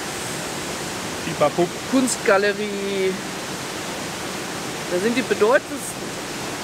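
Steady rushing of a waterfall in the town of Saarburg, a broad constant roar under someone talking nearby.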